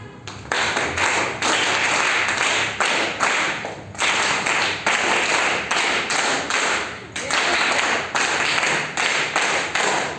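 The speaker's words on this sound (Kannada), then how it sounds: "ಚಪ್ಪಾಳೆ ತಟ್ತಾರೆ" Children clapping their hands together in bursts, a dense, loud patter of many hands that pauses briefly every couple of seconds before resuming, close by and without speech.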